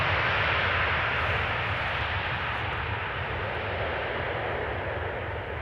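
An Etihad Boeing 787-10 Dreamliner arriving from Abu Dhabi at Amsterdam Schiphol gives a steady, loud broadband jet roar that fades a little toward the end, with no voices.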